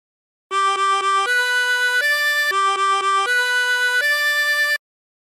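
Harmonica playing a phrase of La Cucaracha, with steady bright reedy notes in a quick repeated rhythm: three short notes, then longer held tones, alone and clear.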